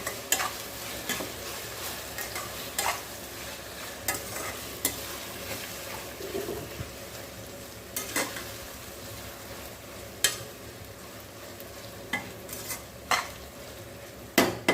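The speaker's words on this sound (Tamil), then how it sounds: "நல்லா எண்ணெயிலே வதக்கி கொடுக்கணும்" Grated ginger and raw mango sauté in hot oil for a tangy thokku, with a constant close sizzle broken by sharp scrapes and taps of a spoon against the pan every second or two.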